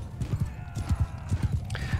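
Cavalry horses gallop in a Mount & Blade 2: Bannerlord battle, a rapid, steady clip-clop of many hooves pounding close and loud for about two seconds, with faint battle noise behind.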